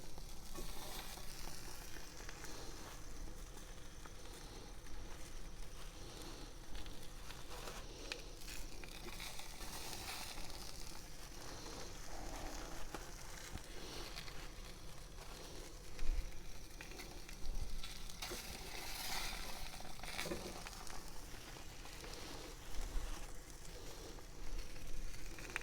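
Linked butcher's sausages sizzle and spit steadily in a frying pan, a continuous close crackle with occasional louder pops and no talking.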